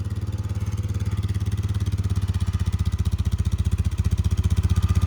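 A 2004 Polaris Sportsman 400 ATV idles on a cold start, its engine throbbing loud and close in a continuous fast pulse that stays steady throughout.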